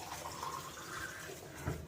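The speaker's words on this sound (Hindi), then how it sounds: "और अब हम इडली के लिए कुकर में पानी डाल रहे हैं।" Water is poured into a pressure cooker to steam idli, a soft, steady trickle and splash at close range, fairly faint and continuous with a small knock near the end, and no talking.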